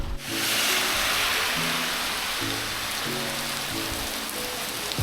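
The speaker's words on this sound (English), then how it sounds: "it started to rain already" Rain falling steadily during a bike ride, a dense even hiss of drops on surfaces close by, with faint low hums pulsing underneath and no voices.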